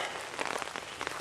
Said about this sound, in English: Trying to make it fast since it's raining out here.